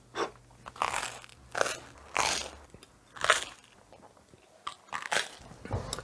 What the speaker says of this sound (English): excuse me while I munch on this quickly and we'll get started.